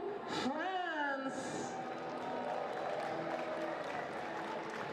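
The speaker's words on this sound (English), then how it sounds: "They're going to get a good round of applause here from all in attendance." Crowd applause at the opening night of the European Touch Championships in Vichy, France, a steady wash of clapping in a large venue heard under a commentator's voice.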